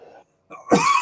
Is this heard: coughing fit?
yes